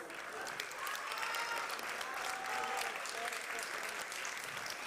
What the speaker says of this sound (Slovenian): Najlepša hvala, en aplavz.